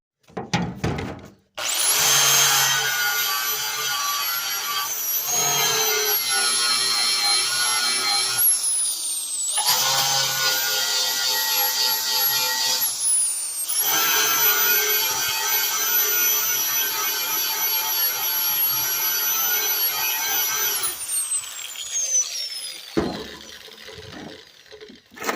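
Angle grinder grinding down welds on a 1985 Belarus 420 4x4 tractor, a loud, steady high-pitched whine that runs in long sustained passes with brief pauses between them, ending in clanks of handling.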